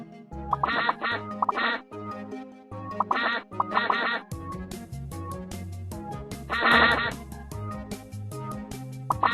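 Cartoonish quacking from the video game Teach Your Monster to Read, bursts of repeated quacks over bouncy electronic music, with a longer louder run of quacks near the end.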